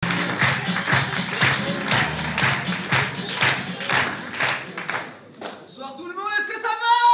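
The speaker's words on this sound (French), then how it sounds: "Un tonnerre d'applaudissements, mesdames et messieurs, pour Benoît" A comedy-club audience claps in a steady rhythmic beat to welcome a comedian on stage, loud and close, before a voice begins speaking over the fading applause.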